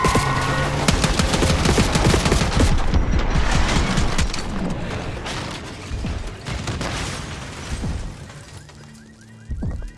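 Dense gunfire in Call of Duty Black Ops 6, rapid automatic bursts and heavy booms crowding the first seconds, then thinning to scattered shots and mechanical clatter.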